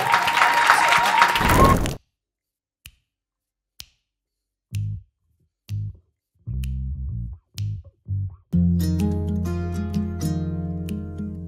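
A short burst of audience applause for a song at an unplugged music event, cut off after about two seconds and followed by sparse instrument notes before the music starts up fully.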